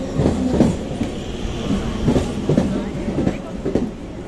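A train pulls out of Bankura station with steady rolling rumble and repeated clickety-clack of wheels over rail joints, close and continuous throughout.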